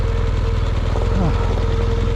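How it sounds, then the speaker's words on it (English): Motorcycle engine idling low and steady on Michelin Anakee Adventure tires, engine braking down a steep rocky off-road hill with the clutch out, a constant close rumble with faint rattles and a brief rising squeak. "Got the clutch out for some engine brake."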